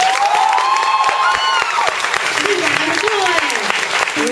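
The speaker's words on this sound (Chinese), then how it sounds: "可以满意的话，可以掌声一下" A concert audience breaks into applause, a dense wash of clapping with some cheering and shouts. Crowd voices and a prominent tonal voice sound over it throughout.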